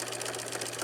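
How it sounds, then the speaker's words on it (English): A sewing machine stitches straight across the top of a fabric piece, giving a steady close-up motor whir with a fast, even needle rhythm and no pauses. "now you're going to stitch all the way across the top here"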